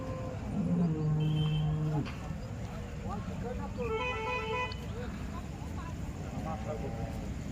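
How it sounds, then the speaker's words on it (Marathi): A cow gives a long, low moo nearby, and other calls follow later against a constant outdoor background hum, at a dairy farm trading cows and buffaloes near Loni market. "माझ्या पाठीमागं सुद्धा गाय आहे समोर बी गाय आहे"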